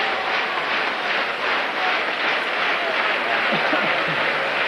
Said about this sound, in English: And who's applauding them?